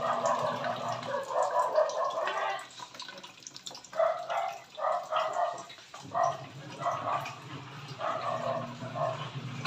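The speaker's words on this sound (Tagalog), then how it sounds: "Ingay na naman ang mga aso namin." Several dogs bark repeatedly in bursts, a mix of deeper and higher yaps, fairly close, with brief pauses between volleys.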